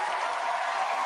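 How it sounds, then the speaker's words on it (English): Dense, steady applause from an audience of parents at an evening school safety town hall, a continuous broadband patter of many hands with no gaps. "Single parent round of applause right now"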